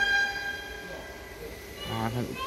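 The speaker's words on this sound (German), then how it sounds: "Bahn gehupt." A Munich MVG U-Bahn C2 train horn sounds a steady tone over low rumbling rail noise, with a voice briefly murmuring nearby near the end.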